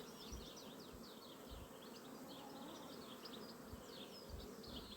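A dense swarm of bees, many carrying pollen, buzzes steadily nearby at a hive, with birds chirping faintly in the background and occasional soft low thumps.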